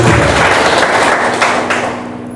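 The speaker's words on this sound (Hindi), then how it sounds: "माँ बाप के लिए ताली बजा रहे हो।" Audience at a motivational network marketing seminar applauding for their parents: dense, loud, sustained clapping from a large crowd that slowly fades, with no talking.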